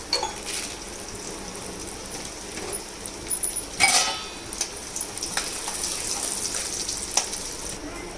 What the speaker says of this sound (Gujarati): તેલ આપણું સરસ તતડી ગયું છે.